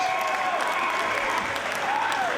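A Boston crowd at a professional wrestling match applauds loudly and steadily, a dense wash of clapping with a commentator's voice running over it.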